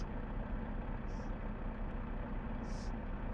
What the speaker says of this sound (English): It's the engine, obviously.